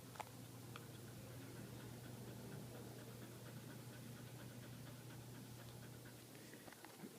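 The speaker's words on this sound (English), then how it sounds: "So he decides to breathe heavily." A dog breathes heavily and steadily while waiting to be fed, a low continuous panting that runs throughout at moderate level, with a few faint clicks and small noises scattered over it.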